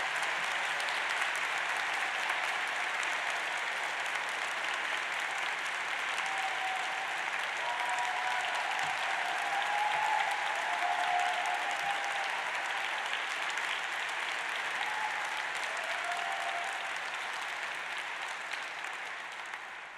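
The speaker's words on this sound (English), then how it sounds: "A round of applause, I think, just for that." A hall audience at a university degree ceremony applauds steadily, an even wash of clapping that continues throughout and eases slightly near the end.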